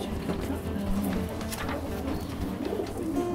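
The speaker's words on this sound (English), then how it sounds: "Anyway, it's a checker cock off two Kevin Rooney pigeons." Low, murmuring coos from racing pigeons close by, including a checker cock, several overlapping in a continuous soft burble with faint background noise.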